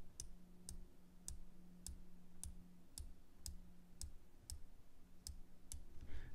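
Unidirectional 120-click bezel on a Ventus Northstar dive watch turned slowly, producing a dozen crisp, evenly spaced clicks, close up and quiet, against a faint steady hum.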